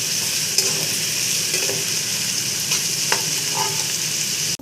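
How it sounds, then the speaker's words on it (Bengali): Onions frying in a pan give off a constant, close, crackling sizzle, with a few soft scrapes and taps of a stirring spoon and no voices. "এবারে পেঁয়াজটা আমি লাল লাল করে ভেজে নেব"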